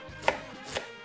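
A kitchen knife chops cabbage by hand on a cutting board, two sharp, close thuds about half a second apart.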